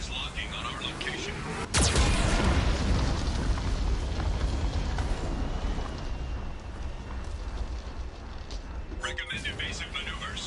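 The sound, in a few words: Geth cannon explosions in Mass Effect video game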